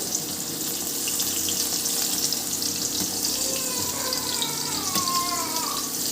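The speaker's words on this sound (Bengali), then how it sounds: "আমি কারকল ভাজছি" Karkol (spiny gourd) frying in a pan, a steady broad sizzle holding close and even throughout, with faint clinks and a brief watery whistle-like tone near the end.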